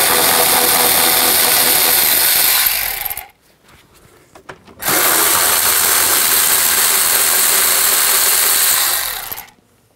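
A power tool or socket driver whirs loudly and continuously on the fan shroud bolts of a Ford E-250 van, cutting out for over a second before a second long run.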